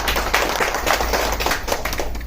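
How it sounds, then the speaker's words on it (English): An audience applauds steadily, a dense wash of clapping at moderate volume with no pauses. "I think a big round of applause to Leela."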